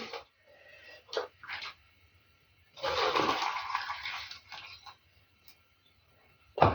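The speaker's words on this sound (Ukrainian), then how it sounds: "І так зараз кожну баночку пропарю оцим окропом." Boiling water poured over jars of tomatoes to steam them, short splashy bursts and then a longer gushing pour, separated by quiet gaps.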